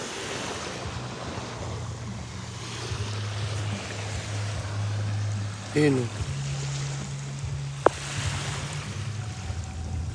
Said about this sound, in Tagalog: Mababa lang yung alon ngayon.